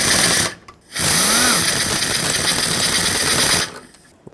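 A power tool drives bolts on a 2008-2010 Ford F-250 radiator, a loud close whirring run that briefly stops and restarts, then holds for a few seconds before cutting off.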